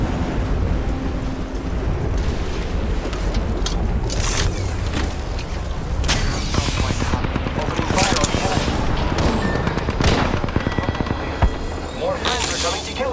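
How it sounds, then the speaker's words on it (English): Gunfire in the Apex Legends video game, loud sustained bursts and rapid shots layered with explosions and chaotic game sounds, with a voice talking over the action. "I am taking fire, friends."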